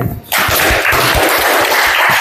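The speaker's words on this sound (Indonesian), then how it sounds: "Tepuk tangan dulu yang lain." A group of students applauding in a classroom: loud, dense, steady clapping that starts abruptly and continues without a break to the end.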